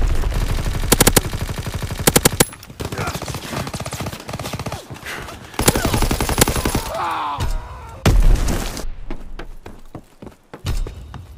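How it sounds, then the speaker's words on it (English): Rapid gunfire and heavy mortar impacts in the Call of Duty WW2 multiplayer video game, loud bursts of automatic fire and thudding blasts coming in waves across the clip, with no one speaking. "Enemy mortar fire incoming!"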